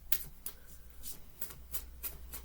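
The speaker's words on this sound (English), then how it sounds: "Sometimes I shuffle a lot because there's a lot of heavy energy in the collective." Tarot cards being shuffled by hand, a quiet, close series of regular riffling bursts about every half second, with no talking.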